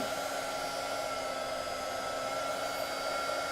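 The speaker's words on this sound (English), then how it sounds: "sounds like my heat tool has had better days" A worn heat tool used for crafting, embossing on pattern paper, blows hot air in a steady, loud whirring roar with a high whine, continuous and without talk.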